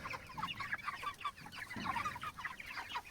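Several chickens cluck and murmur continuously close by in a clover pasture, overlapping soft clucks with a few louder calls, with steady faint background noise.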